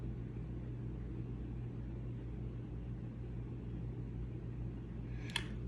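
A ceiling fan spins at full speed during a balancing test, giving a steady, even low hum and whir that never changes, with one brief click just before the end.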